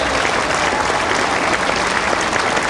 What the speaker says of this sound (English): Even David Copeland applauds the mighty Atom.